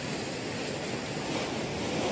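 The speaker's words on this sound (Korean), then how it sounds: "지금 파도가 장난이 아닙니다." Rough sea waves crash and wash against a harbour breakwater at Oeongchi outer harbour, a steady, loud roar of surf with no voices.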